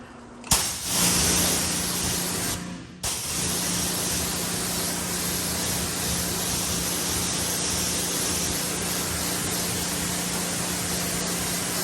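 A pressure-washer spray hisses loudly and continuously as it rinses a car, briefly cutting out twice near the start before running steadily with a low pump hum underneath.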